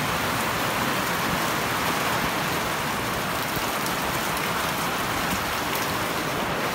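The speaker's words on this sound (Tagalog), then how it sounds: "Grabe, ang lakas na ulan." Heavy rain pours down steadily in Taguig, a dense, continuous hiss with drops drumming on surfaces, close and loud throughout without any voices.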